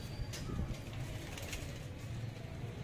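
Low, throaty pigeon cooing rolls on continuously with a few soft flutters and clicks, as if several birds are close by.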